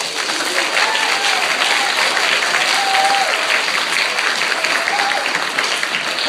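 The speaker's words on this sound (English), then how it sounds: "Give yourselves a round of applause." Steady, dense applause from an audience fills the room, a continuous wash of clapping hands that holds at an even loudness throughout without pauses.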